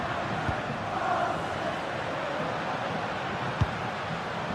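Stadium crowd noise from a video game football match, a steady broad roar with faint swells and a couple of brief thumps, no clear talk on top.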